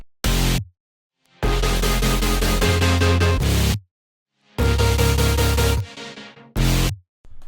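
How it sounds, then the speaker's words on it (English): Synths from an electronic track play together in loud bursts of stacked, sustained chords with deep bass, separated by short silences and sharp cutoffs, with one brief stab at the end. "let me play all the synths through so you know what they sound like"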